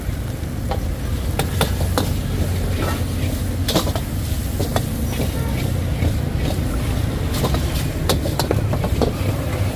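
Fried rice sizzles in a wok over a roaring flame, a dense, steady frying hiss with frequent sharp scraping and clanking of a spatula against the metal pan, close and continuous.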